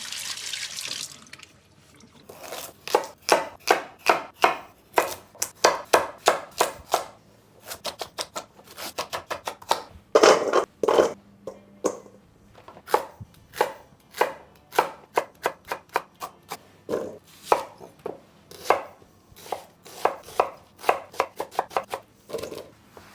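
Carrots, onion and celery are chopped on a board with a knife, giving a long, steady run of quick, sharp, close chops in bursts, with brief pauses between batches and no talking.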